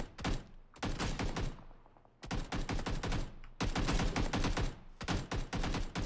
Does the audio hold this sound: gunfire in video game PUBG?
yes